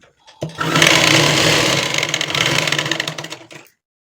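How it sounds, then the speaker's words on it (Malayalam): A sewing machine runs a double stitch along the shoulder seam of a nighty (maxi dress), whirring loudly and steadily at close range for about three seconds before stopping abruptly. "ഡബിൾ സ്റ്റിച്ച് ചെയ്തെടുക്കാം"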